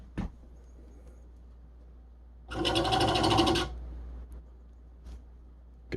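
A manual speed control motor spins an RC car truck wheel in one loud whirring burst of about a second, rising out of a quiet room and then dropping away.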